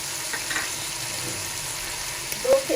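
White cumin seeds dropped into hot oil for beef yakhni pulao crackle with a steady, close sizzle, with a couple of brief clinks and a short knock near the end, and no voices.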